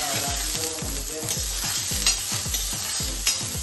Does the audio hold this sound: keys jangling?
no